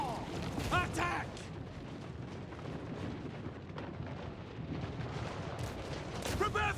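Cannon fire in the battle game Total War: Warhammer, dense rumbling booms and blasts rolling continuously under a busy battlefield din, with a few shouted voice lines mixed in.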